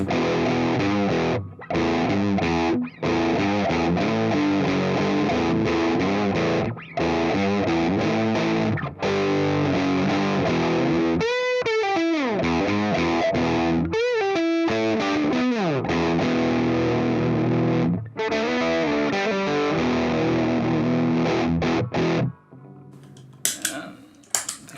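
Electric guitar through a Big Muff fuzz pedal set to high gain plays heavily distorted sustained chords and bent notes, loud and thick, with brief pauses between phrases and no talking.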